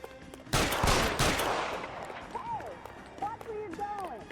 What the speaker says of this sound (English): Watch where you're going as you hear gunfire is not the best case.